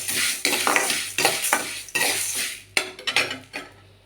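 Horse gram dry-roasting in a pan, stirred with a utensil that scrapes and clinks against the pan in about eight quick, close, rhythmic strokes, with no voices.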